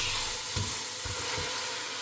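Steady sizzling of chicken frying in a hot pan, a continuous bright hiss with a few soft low bumps of stirring, no voices.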